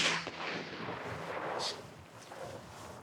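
Rifle or shotgun shot while hunting black bear in Saskatchewan, a single sharp blast at the start that rolls off into a long outdoor rumble and faint echoes.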